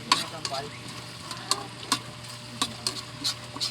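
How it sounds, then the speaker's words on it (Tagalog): Onion and green chili frying in a pan with softened pork for Bicol Express: a low continuous sizzle broken by sharp, close clacks of a spoon stirring at irregular intervals, with faint voices in the background. "Ilalagay na lang natin yung sibuyas. pati chili, siling green."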